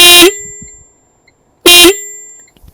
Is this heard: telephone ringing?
no